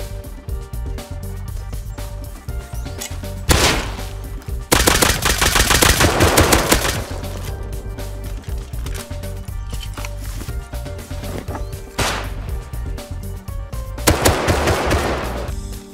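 Gunfire in the survival game Rust, with loud rapid automatic bursts and single cracks recurring throughout, some longer sprays and steady background rumble.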